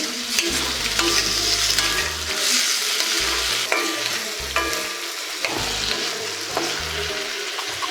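Onions and tomatoes sautéing in an iron kadai: a loud, close, continuous sizzle broken by frequent scraping stirs, with a low hum running underneath.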